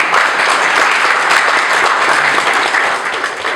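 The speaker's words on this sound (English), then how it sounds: "Okay, you're going to be clapping a lot." An audience at a community award ceremony claps steadily and loudly throughout, a dense wash of hands that thins slightly toward the end.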